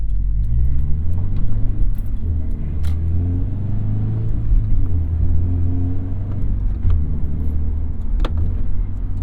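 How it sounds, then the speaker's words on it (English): Manual-transmission car doing a double-clutch downshift into third gear: loud, close engine rumble with pitch changes as revs are blipped and dropped, plus faint clicks of the shift. "So that was a double shift, or double clutch downshift into third"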